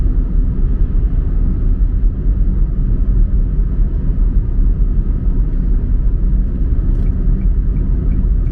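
A manual-transmission car drives around a roundabout, a steady low engine and road rumble heard from inside the cabin with no talking.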